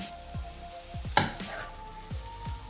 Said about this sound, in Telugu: ఇప్పుడు దీన్ని మీడియం సగం మీద 2 నిమిషాలు అడుగంటేంత వరకు వేయించుకోండి